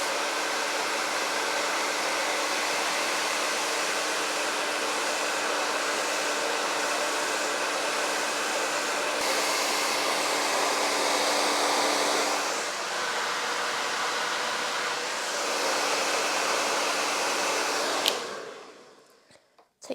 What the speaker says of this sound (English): if you're not very good at using a hairdryer here, this is going to be loud